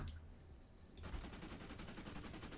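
Rapid automatic fire from a new assault rifle in the Fortnite game mode Save the World, starting abruptly about a second in and continuing as a dense, steady burst to the end, loud and close with no talk.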